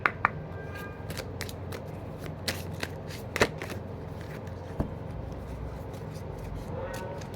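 Tarot cards being shuffled by hand in a string of quick, soft riffling flicks and card slaps, close and fairly quiet over a low background hum, with no talking.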